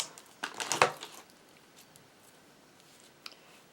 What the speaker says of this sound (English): let me see if I can cut this with my scissors now.